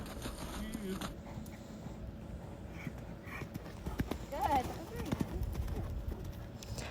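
A young mare is ridden toward a jump, her hooves thudding in a steady rolling canter rhythm at close range, with a brief whinny-like sound midway and a rider talking throughout.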